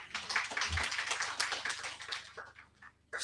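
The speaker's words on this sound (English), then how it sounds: "Please, another round of applause for her." An audience at a mental health conference applauds, a dense, steady patter of many hands clapping that thins out toward the end, with no speech over it.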